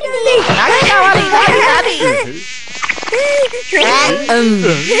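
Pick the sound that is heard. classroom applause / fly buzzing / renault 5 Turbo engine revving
fly buzzing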